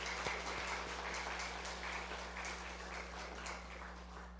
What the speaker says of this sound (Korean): 우리 선교팀 위해서 큰 격려의 박수 한번 다시 부탁드립니다